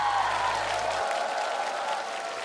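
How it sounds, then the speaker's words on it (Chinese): Audience applause and crowd noise for the first group of performing musicians at a televised band-competition show, a broad steady wash of clapping throughout, fairly loud and diffuse. "让我们掌声谢谢今晚的第一组闪光音乐人"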